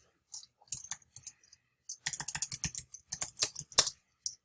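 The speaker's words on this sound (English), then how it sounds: "I'm just going to drag my finger across the keyboard here" Keyboard keys click in quick irregular bursts, a finger sweeping across them, with a short pause between runs; close and crisp.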